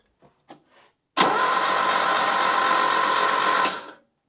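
A Lada Niva engine cranks on a remote starter without firing because there is no spark. A few faint clicks come first, then a loud, steady, close starter whir runs for about two and a half seconds and cuts off.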